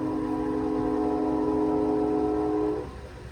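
A CSX freight train passes close by in Muncie, with a loud sustained horn blast holding steady for nearly three seconds before cutting off, leaving the rumble of the train underneath.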